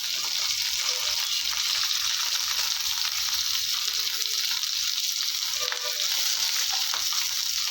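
Onions with green and dried chilies frying in a pan, a constant close crackling sizzle with occasional stirring clicks, loud and unbroken with no speech.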